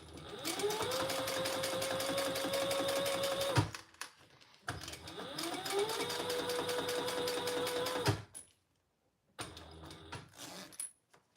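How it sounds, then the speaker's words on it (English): A sewing machine top-stitches through two layers of vinyl while making a triple-zipper project, running in two long, steady whirring passes that each end in a clunk, followed by brief handling noises. "Top stitch through both layers."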